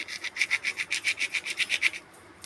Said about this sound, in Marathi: पुन्हा जिरे घ्यायचे जिरे पण कुस्करायचे